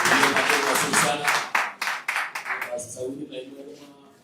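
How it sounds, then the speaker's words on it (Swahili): A church congregation applauds a choir, a run of dense, fairly close clapping that thins out and fades over a few seconds, with voices mixed in. "Wapigie makofi mazuri sana."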